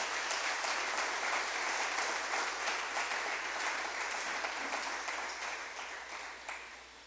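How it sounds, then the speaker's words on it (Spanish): A church congregation applauds during a Spanish-language Christian sermon, many hands clapping in a sustained, fairly soft and distant wash that slowly fades toward the end. "Dele un fuerte aplauso al Señor."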